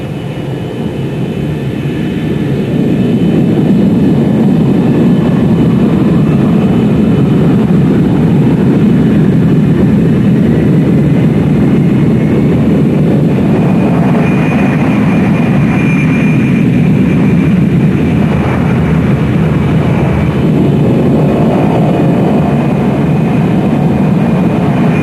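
Airliner jet engines roar steadily in a pilot training flight simulator, a loud continuous low rumble with a broadband whoosh that swells after the first few seconds and holds, no voices.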